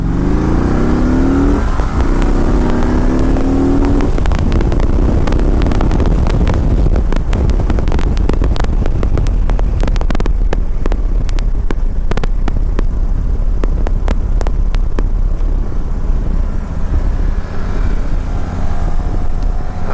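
Harley-Davidson Street Glide motorcycle climbing a mountain road, its engine revving under heavy, constant wind buffeting on the microphone, with sharp gusting bursts throughout.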